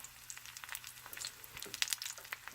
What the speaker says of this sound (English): These are frying in the oil